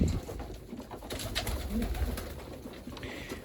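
Pigeons cooing steadily inside a loft, a low, continuous burbling chorus from several birds close by, with faint background rustle and no speech.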